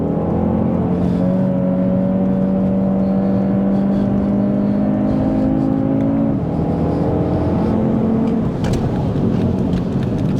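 Audi TT RS 8S sports car driving and accelerating, a loud sustained engine note rising in pitch, then dropping at a gear change and climbing again, heard from inside the cabin.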